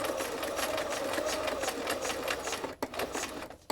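A sewing machine stitching over thread tails on monoprinted fabric bookmarks, a close steady whirring run of rapid needle strokes that slows and stops with a couple of brief pauses near the end.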